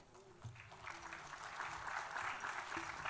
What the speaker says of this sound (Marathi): थोड्या जोराने होऊन द्या टाळ्या प्लीज